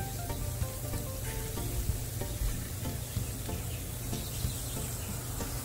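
Tequila lime shrimp sizzle and fry steadily in a hot pan, a dense continuous crackle at close range with no talking.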